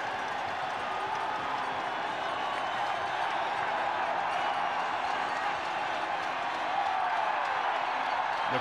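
A large crowd at an Olympic men's moguls freestyle skiing final keeps up a steady roar of cheering heard from a distance, with a commentator's voice running over it throughout.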